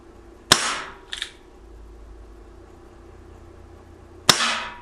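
An Umarex Legends Ace in the Hole SAA pellet revolver fires two sharp, loud shots a few seconds apart, with a faint mechanical click between them and quiet background in between.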